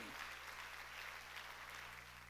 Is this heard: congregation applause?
yes